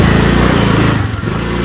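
A scooter engine running steadily close by, a continuous low buzzing drone with a slight dip in the middle and no talk over it.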